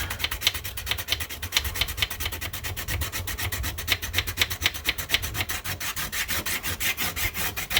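Steady back-and-forth rasping of a hand file cutting a bevel, shaping a part during a Miata AC control and radio relocation job, a close, rhythmic series of strokes repeating about twice per second with no talking.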